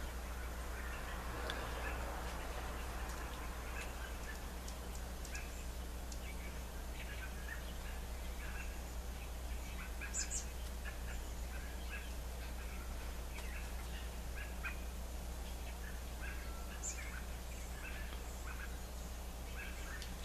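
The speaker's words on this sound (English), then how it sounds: "The circus is in town, circus of birds" A busy chorus of many birds calls at once, with steady chirps and squawks scattered through a constant low hum, moderately loud and with no talk.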